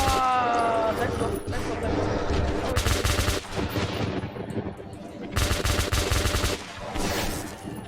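In the video game Metro 2033, a machine gun fires rapid bursts, loud and close, with several sustained volleys separated by brief pauses and a voice talking underneath.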